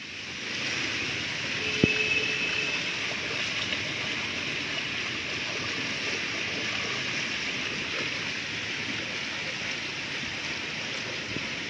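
Heavy rain runoff rushes steadily into a street drain, a dense, continuous watery roar that holds the same level throughout, with one brief knock near the start.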